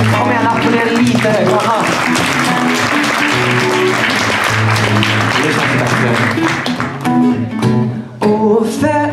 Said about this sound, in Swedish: Kom igen, applådera lite.